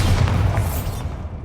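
A Bombarda spell explosion in Hogwarts Legacy gives a loud, deep boom with a heavy low rumble that carries on and then starts to fade toward the end.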